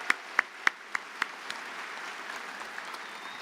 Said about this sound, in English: Please join me in giving these graduates a round of applause.